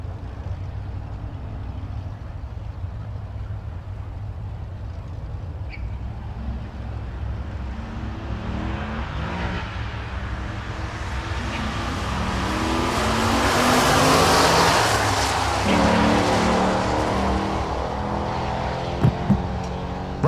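Drag racing at a raceway with a Corvette C5 and a gray Firebird in the 14.0 class running down the strip; steady loud engine roar builds to a peak midway, then settles, with no talk.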